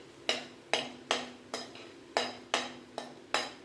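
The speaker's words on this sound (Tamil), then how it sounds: "பொறுமையாக தான் வறுக்கணும், அப்படியே வறுத்துட்டே இருக்கலாம்" Lentils for paruppu podi roast in oil in a pan, stirred with a utensil that scrapes and clinks against the metal in eight regular strokes about half a second apart, close and moderately quiet, with no talking.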